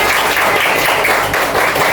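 A fourth-grade class of pupils applauds together in a classroom, a dense, steady patter of many small hands clapping at once, loud and continuous throughout without any voices over it.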